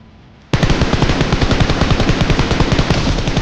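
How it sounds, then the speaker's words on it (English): Loud, close automatic gunfire in a video game, a sustained rapid stream of shots that begins abruptly and continues without pause. "Constant cover fire."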